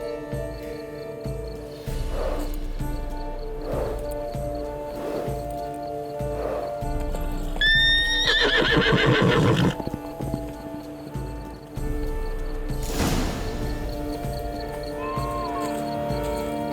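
Roach the horse in The Witcher 3: Wild Hunt, Blood and Wine, gives a snorting whinny in the middle, with soft hoof thuds and shuffles scattered before and after over a steady background hum.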